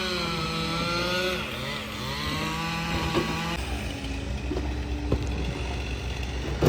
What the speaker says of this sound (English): He loves that chainsaw.